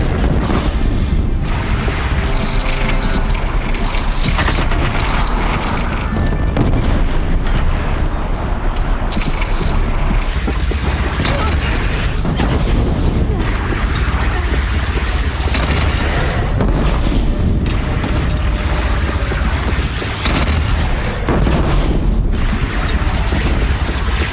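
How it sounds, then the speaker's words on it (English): A bridge is shot down in the Horizon Zero Dawn video game, a loud sustained rumbling explosion and crashing collapse that roars continuously with booming debris throughout. "Gathering under the bridge, Aloy. Bring it down on them."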